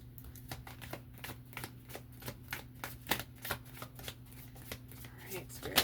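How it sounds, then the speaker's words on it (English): A deck of cards riffled and handled at close range, a rapid run of crisp papery flicks and snaps repeating steadily for several seconds over a faint low hum. "I'm trying to lift this card."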